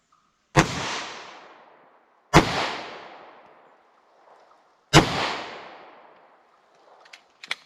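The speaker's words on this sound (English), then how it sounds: "So let's get started with shooting these and see how they do." A Glock 41 pistol converted to 10mm fires Corbon DPX rounds, three loud sharp reports spaced about two seconds apart, each ringing out with a decaying echo, then faint clinks afterward.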